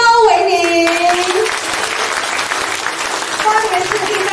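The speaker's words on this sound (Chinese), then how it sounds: "上台的时候请给他们热烈掌声" Warm audience applause at a political party rally as election candidates come on stage, continuous crowd clapping with a loud amplified voice over it at the start and briefly again near the end.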